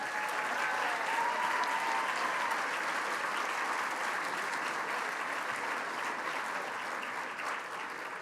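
Sustained applause from a gala audience, dense and steady throughout, with a faint voice briefly surfacing near the start.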